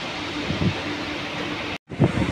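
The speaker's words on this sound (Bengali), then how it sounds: "ট্রেন ছেড়ে দিল, 8:40-এর ট্রেন 8:50-এ ছাড়লো" Low rumbling of a train moving off, a steady mechanical drone with wind noise and a brief dropout near the end.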